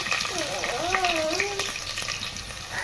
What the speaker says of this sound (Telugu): ఇదిగోండి ఉల్లిపాయ పచ్చిమిరపకాయలు బాగా వేపుకున్నాము.